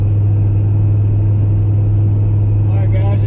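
A street car with a newly finished exhaust cruises along, heard from inside the cabin as a loud, constant low drone with a steady rumble and no revving.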